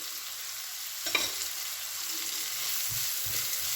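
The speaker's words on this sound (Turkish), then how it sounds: "şimdi soğanlarımız güzelce sotelenecek" Large chopped onions sizzle and fry steadily in a pan for a squash dish, with a brief stir or clink and a few low knocks, close and continuous with no voices.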